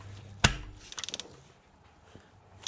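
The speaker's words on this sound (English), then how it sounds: "And we'll torque this down." A torque wrench tightens a spark plug to 13 foot-pounds on a 1996–2001 Toyota Camry 1MZ-FE V6. One sharp knock is followed by a quick run of close ratcheting clicks, then quiet, with no voices.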